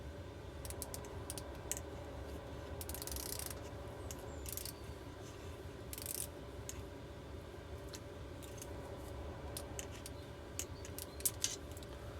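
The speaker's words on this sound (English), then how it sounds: "I'll just turn the tensioner just to make sure all the slack's off that." The tensioner on a Keeway TX125 motorcycle engine is turned during a cylinder head refit, giving quiet, scattered mechanical clicks and small ticks over a soft background, with no talking.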